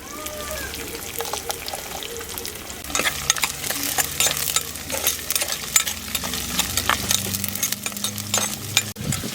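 Shallots and garlic frying in oil while making a Tamil garlic-pepper kuzhambu, a steady sizzle with repeated stirring scrapes and clinks of a spoon in the pan, close and continuous.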